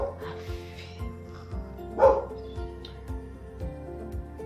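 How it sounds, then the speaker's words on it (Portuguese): A dog barks repeatedly in short bursts, roughly two per second, with one louder, sharper yelp midway, fairly close and without speech. "o cachorro começou a latir."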